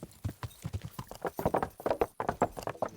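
Horse hooves clip-clopping in Kingdom Come: Deliverance: a quick, close run of hoof strikes in an uneven trotting rhythm, loud and busy throughout, with no voices over them.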